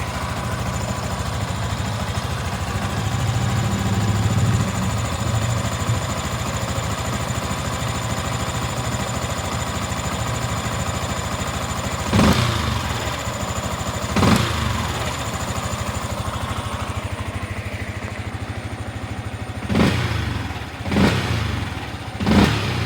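A Spiner 155 motorcycle engine running after a throttle cable and quick throttle replacement, a steady close idle broken by several sharp blips of revving, with a few more bursts near the end.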